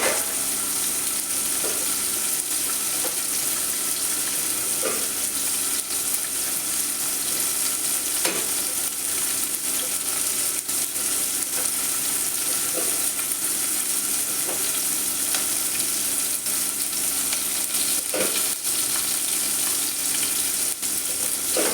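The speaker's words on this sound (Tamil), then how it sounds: "நல்லா வதங்கி போட்டு காயை அள்ளி சேர்த்துக்கலாம்." Vegetables such as brinjal and okra sauté in a pan for kadamba sambar, a steady loud sizzle and frying hiss running throughout with occasional stirring scrapes and taps, no talking.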